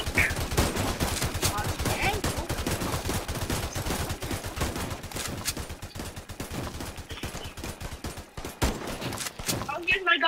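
Video game gunfire in Tower Defense Simulator, dense rapid shots crackling continuously for several seconds, fairly close, with game noise and occasional voices underneath.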